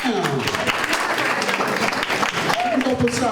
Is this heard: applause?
yes